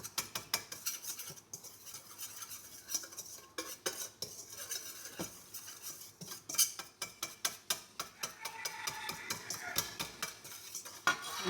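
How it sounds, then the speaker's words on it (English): Carrot cake muffin ingredients, including cloves, ginger and nutmeg, are whisked in a bowl, giving a quiet, rapid run of light clinks and scrapes. The strokes come steadily with slight pauses, close but faint, and no one speaks. "whisk them"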